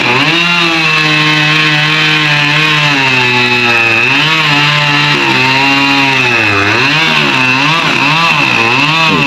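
A chainsaw cuts into a backyard tree, its engine loud and close, holding a steady whine that bogs down and revs back up repeatedly as the bar bites into the wood.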